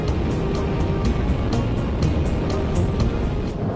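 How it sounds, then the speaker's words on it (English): A Daihatsu car accelerates on a motorway, a steady, loud broadband engine and road roar with wind noise building continuously throughout, no voices. "Next, we see how quickly the two can accelerate on the motorway."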